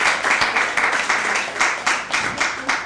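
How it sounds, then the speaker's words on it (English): Comedy club audience at The Metropolitan Room in New York gives a round of applause, clapping in swelling rhythmic waves, fairly close and moderately loud with no talking over it. "So give yourself a round of applause."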